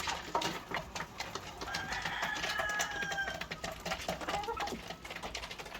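White Leghorn chickens on a farm, pecking and eating yellow corn, heard as a steady stream of overlapping clucks and soft chirps close by, with busy background activity and no clear talk.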